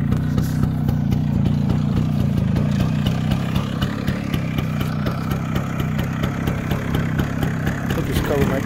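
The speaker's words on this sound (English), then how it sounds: "pull this clutch in and hit the start button. Yeah, it starts right up." Motorcycle engine idling just after starting, a close, fairly quiet, steady low chugging with a regular rhythm and light mechanical clatter, with someone talking over it.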